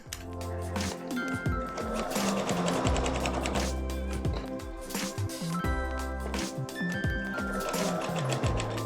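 A sewing machine stitching a flat-pleated skirt, running in quick bursts of rapid mechanical clatter with brief pauses and small clicks between runs, close and steady.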